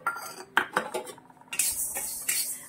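Fenugreek seeds dry-roasted in a pan for Marathwada-style kala masala, with rattling metal clinks and scrapes of a spoon moving the seeds, followed by a brighter, sustained hiss, close up and without talk.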